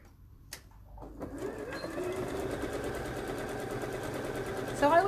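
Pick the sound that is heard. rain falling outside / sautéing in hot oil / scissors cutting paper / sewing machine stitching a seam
sewing machine stitching a seam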